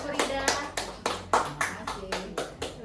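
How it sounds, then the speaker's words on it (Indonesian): A small group applauds Bu Rida with a handful of separate, fairly spaced claps, distinct individual hits rather than a dense roar, close and moderately quiet. "Tepuk tangan untuk Bu Rida."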